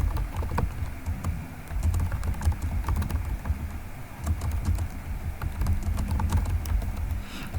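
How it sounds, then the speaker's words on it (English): Steady typing on a computer keyboard while writing web page content, continuous close clicking keystrokes with no voice. "let me just type something here"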